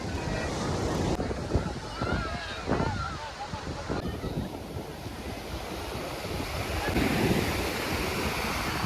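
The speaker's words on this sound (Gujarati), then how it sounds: "હા ભાઈ આ મોજ છે દરિયાની" Sea waves wash onto Madhavpur beach in Gujarat as a broad, continuous surf roar. Heavy wind buffets the microphone throughout.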